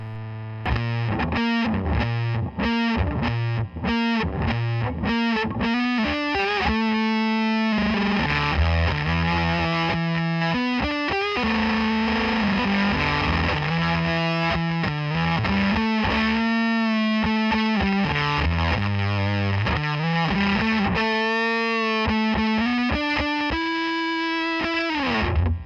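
A Soundslice FX Double Beater Fuzz guitar pedal on its gnarly, hairy, noisy setting drives an electric guitar through a continuous run of thick, saturated fuzz riffs and sustained notes, loud and dense throughout.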